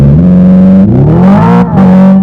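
A Hyundai Ioniq 5 N electric sports car plays its simulated engine sound, a loud, close, synthetic revving drone that climbs in pitch, briefly dips as if shifting gear, then settles back to a steady hum.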